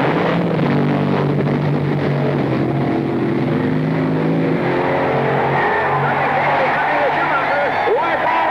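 Crowd-favorite drag racing cars roar at the 1969 NHRA Nationals, a loud sustained engine howl with rising revs filling the whole stretch, mixed with dense background noise and possible voices.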